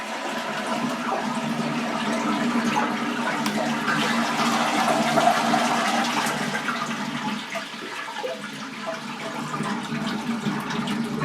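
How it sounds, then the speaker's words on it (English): A toilet flushing with the water supply shut off to empty it for a wobbly-toilet repair, a loud continuous rush of draining water lasting several seconds, close by with no talking. "Now we're going to flush the toilet and get all the water out."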